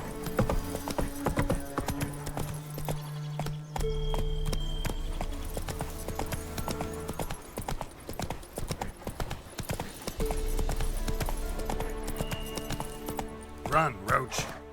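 A horse's hooves clip-clop steadily in The Witcher 3, the rhythmic beats running throughout over layered game music and ambience, with a brief whinny-like burst near the end.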